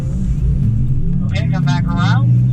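A Porsche engine accelerating out of a chicane on a driving track, a low steady rumble building under the throttle, with a voice speaking over it in the second half.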